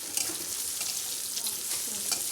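Ginger garlic paste fries with onions in a pan, making a steady, close hiss and crackle of sizzling oil with faint stirring throughout.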